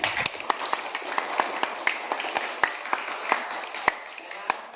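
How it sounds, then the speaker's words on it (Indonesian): Sparse clapping in a classroom during an Islamic religious education lesson, a few separate claps spaced out in an uneven rhythm over low background noise. "Ya, tepuk tangan semuanya."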